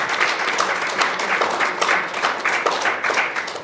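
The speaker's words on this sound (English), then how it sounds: "our panel, another round of applause for them," An audience at a diplomatic session applauds a panel: a dense, steady wash of many hands clapping that holds at an even level for the whole stretch, with no voices on top.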